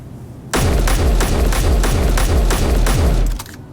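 Eight evenly spaced, heavy shots from the MR8P precision rifle in Space Engineers, each a loud booming crack with a low thump, fired in quick steady succession over about three seconds, then the sound cuts off.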